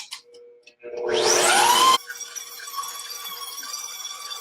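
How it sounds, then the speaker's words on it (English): An electric stand mixer creaming cookie dough whirs up with a rising pitch that is loud and close for about a second, then drops to a softer, steady hum with faint high whine. "We're gonna start our mixer."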